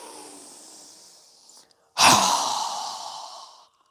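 A strong, forceful exhale during a yoga breathing exercise, a loud breathy rush lasting about a second and a half after a softer, quieter breath, heard alone with no talking.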